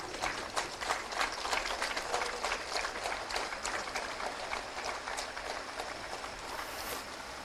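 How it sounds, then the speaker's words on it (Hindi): Sustained applause from a ceremony crowd as a chief minister hands out government appointment letters to successful candidates, dense steady clapping filling the whole stretch with a constant crackling texture. "तालियां होती रहे"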